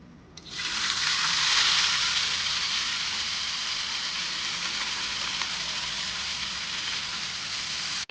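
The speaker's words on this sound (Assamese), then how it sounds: "তাৰপৰা এয়া আৰু সৰু মাছ আছে আৰু ফ্ৰাই কৰি দিম।" Small fish drop into hot oil and fry with a sudden loud hiss that settles into a steady, bright sizzle lasting several seconds.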